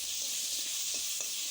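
Potatoes sizzle in hot oil with cumin seeds, a steady broadband frying hiss that runs the whole time, with a few faint stirring scrapes, and no voices.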